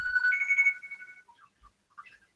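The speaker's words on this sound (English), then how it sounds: "Whose phone is ringing in the background?" A phone ringtone chirps in the background, a bright melodic electronic tone sounding for about a second and then trailing off into a few faint, scattered blips.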